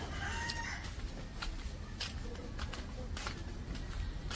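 Chickens on a farm cluck and call over a continuous background hiss, with scattered short bird sounds heard at moderate distance and no one speaking.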